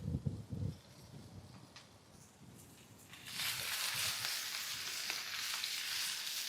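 Steaks sizzle in a pan on a stove just after being flipped, a brief clatter giving way to a bright, steady frying hiss that holds for several seconds.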